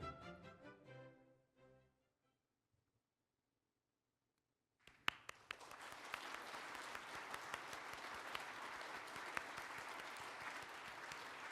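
Audience applause at the 2023 Samsung Ho-Am Prize award ceremony: after some brief music and a silent pause, loud, dense, sustained clapping breaks out across a hall and carries on to the end.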